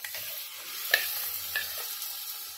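Ground cashew, green chili, tomato and coriander stem masala paste frying in a pan, a soft sizzle under a few distinct stirring scrapes of a spoon, with no voices.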